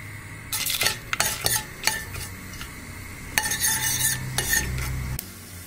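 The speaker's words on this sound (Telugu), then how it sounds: "ఆయిల్ వేడయ్యాక తాలింపు వేసుకోవాలి. ఆవాలు, జీలకర్ర, 2 మిరపకాయలు వేసేసుకోండి." Mustard seeds, cumin and two dried chillies tempering in hot oil for Bombay chutney, with a steady low sizzle broken by scattered sharp pops and a few metal spoon scrapes against the pan.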